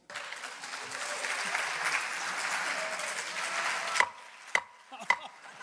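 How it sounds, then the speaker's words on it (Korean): Seoul city council members in the chamber applaud the outgoing chairman handing the gavel to the newly elected first woman chair, a steady wash of group clapping that tapers off into a few final sharp claps. "이를 지켜본 동료 의원들은 박수로 화답했습니다."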